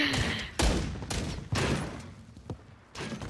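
Loud gunfire in a video game gunfight: several sharp, booming shots and short bursts, spaced unevenly about half a second to a second apart, each trailing into a brief echoing decay.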